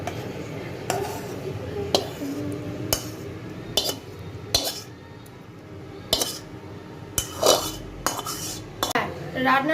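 Paneer kosha stirred with butter in a pan, a spoon scraping and clinking against the metal in repeated strokes, with loud sharp knocks standing out over a steady low background.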